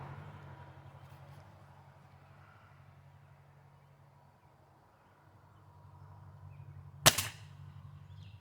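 A Ruger pellet rifle fires a single sharp crack near the end, standing out loud and close above a steady low outdoor hum.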